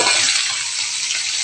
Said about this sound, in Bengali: মাছগুলো প্রায় ফ্রাই হয়ে গেছে